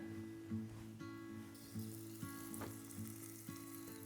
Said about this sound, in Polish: Cebulka już się smaży.